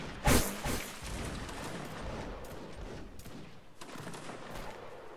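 Musket volleys in a Napoleonic Wars battle game, with a loud sharp crack near the start followed by a dense, continuous rolling crackle of distant massed gunfire.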